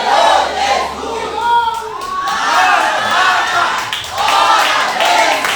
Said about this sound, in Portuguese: Pode ser mais forte suas palmas.